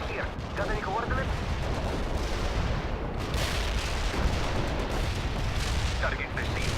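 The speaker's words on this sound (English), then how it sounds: "We can deploy and lay down the heavy barrage." A heavy artillery barrage in World in Conflict rumbles as a continuous dense roar of booms and detonations, with radio-style voices speaking over it.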